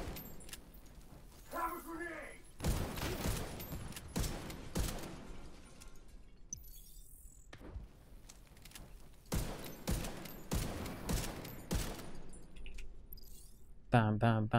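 Rifle gunfire in the shooter game The Division 2, sharp bursts of shots in clustered volleys separated by quieter gaps, with someone talking between the firing.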